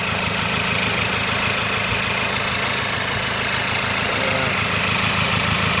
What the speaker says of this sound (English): Would you start the engine again, Roddy?